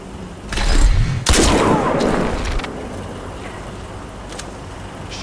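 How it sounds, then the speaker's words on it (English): Gunfire in Crysis 2 comes as a loud, close burst of rapid shots with booming echoes that fade into quieter background rumble. "Shots fired."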